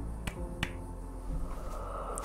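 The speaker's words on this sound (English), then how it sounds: "Some little happy claps." Two sharp, light claps ring out close together in the horror video game The Quarry, followed by a few softer clicks over a steady game ambience.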